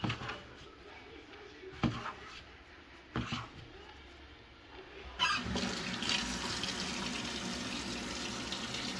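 Water runs from a kitchen tap into a sink while pizza dough is being made, steady and moderately close. A few short knocks sound early on, the flow grows louder and brighter partway through, and a dog whimpers faintly.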